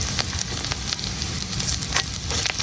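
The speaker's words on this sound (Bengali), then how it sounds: "এখন একটু আদা আর রসুনটা ভালো করে বাইজে নিলাম, যাতে আদা রসুনের কাঁচা গন্ধটা যায়।" Ginger and garlic paste sizzles steadily in hot oil in a pan, with soft scraping stirs and crackling pops in a close, continuous fry and no talking.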